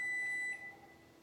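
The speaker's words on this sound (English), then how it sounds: "sorry, there goes my timer, so it's ready to go" Kitchen timer beeping while a pie crust is being made, a thin steady electronic tone that sounds clearly for about half a second, then fades, over a quiet room.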